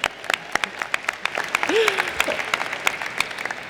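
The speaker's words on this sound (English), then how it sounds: "You should clap for your parents now." Audience at a commencement ceremony applauds graduates' parents, a steady round of clapping from a large crowd with a brief voice cutting through partway.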